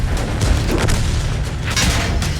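Tank cannon fire in a tank battle video game: a dense run of loud, overlapping booms and rumbling blasts with no pause between them.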